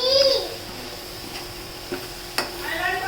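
Veg paneer being stirred and mixed in a pan with chaat masala and other spices, with scraping spoon strokes, faint sizzling and a couple of sharp clinks against the metal, close up, with no talking.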